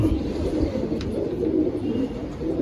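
Soft low cooing of Kalajiriya pigeons, a prized pair from an old bloodline of Rampuri pigeons, murmurs steadily close by against a constant background rumble.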